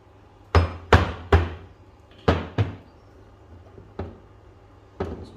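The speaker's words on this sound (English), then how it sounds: "I'm just going to give it a few light taps" A hammer tapping a wheel bearing into place on a Mk5 Golf, about eight sharp metallic knocks, a few in quick succession and then spaced apart, close and clear in a quiet workshop.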